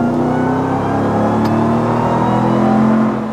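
A Ram TRX pickup truck's turbocharged engine revs and pulls hard, a steady loud whirring drone that swells slightly before easing off near the end, with no talking.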